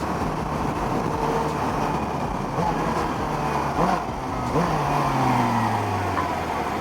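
A Suzuki GSX-S750 naked motorcycle engine roars continuously nearby, its pitch climbing and dropping through a couple of acceleration sweeps at a loud, steady level with no voices.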